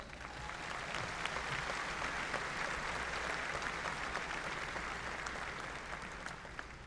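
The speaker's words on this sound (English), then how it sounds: "Let's give Dr. Mahoney a big round of applause." A commencement audience at the SIU Carbondale May 2022 graduation breaks into a sustained round of applause, dense steady clapping filling a large hall at even loudness throughout.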